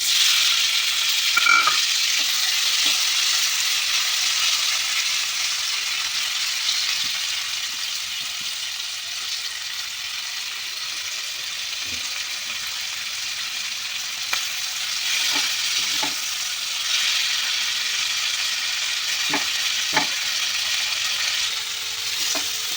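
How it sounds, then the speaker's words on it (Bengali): Prawns frying in hot oil seasoned with salt and turmeric, a loud continuous sizzle throughout with a few faint stirring clicks, no voices. "তেলটা গরম হয়ে এসেছে এবার আমি চিংড়ি মাছগুলো দিয়ে দেবো"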